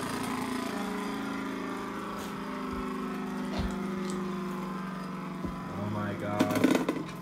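A Rage Longinus Beyblade spinning top grinds and scrapes continuously against a plastic stadium floor, a steady buzzing whir with a louder clattering burst near the end as it settles.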